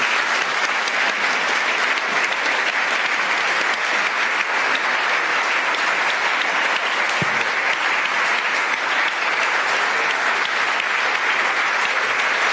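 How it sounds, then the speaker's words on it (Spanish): A live audience applauds steadily after a debate, a dense, even wash of clapping that holds at full strength without pause throughout. "por favor, un aplauso para ellos"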